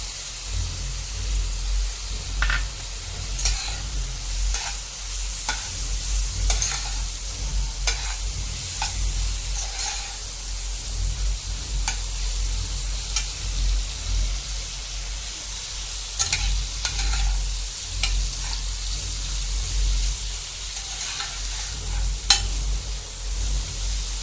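Prawns frying in hot oil while being stirred for a samucha filling, a steady loud sizzle with repeated scraping strokes of the spoon throughout, no voices.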